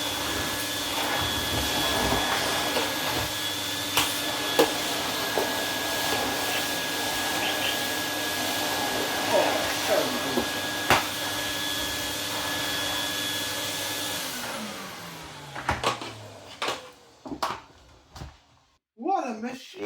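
A 1990s Vax Rapide 5150 vacuum cleaner runs with a loud, steady whine and airy roar, then is switched off and winds down, followed by a few scattered knocks and handling sounds.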